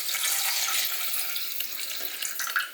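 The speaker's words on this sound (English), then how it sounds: "And then I add some water." Water pouring steadily into a pot of kimchi stew made with kimchi sauce, a continuous close splashing rush that holds fairly even before tapering slightly near the end.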